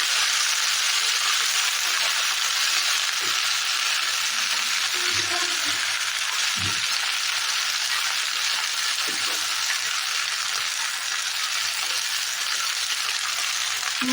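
Washed leafy greens sizzle steadily in hot oil with garlic and panch phoron, a loud continuous hiss and crackle with a few soft clatters of stirring.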